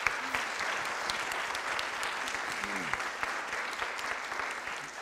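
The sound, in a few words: round of applause from council meeting audience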